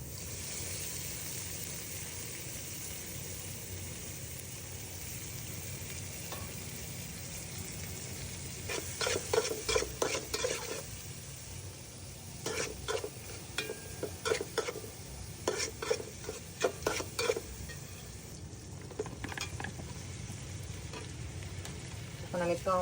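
Onions are frying and being stirred in oil left from frying hilsa fish. A continuous loud sizzle fills the clip, with bursts of rhythmic scraping from the spatula in the middle section, heard up close and without speech.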